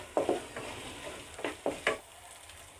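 Masala paste frying in a pan for a sarshe pabda fish curry, stirred with a series of short scraping strokes over a soft, steady sizzle, close and fairly quiet, with no one talking.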